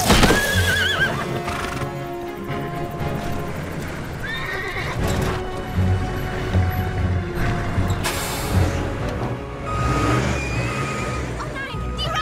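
A wild horse neighs loudly several times while hooves clatter in a gallop, set against a dramatic music score with a vehicle rumble underneath.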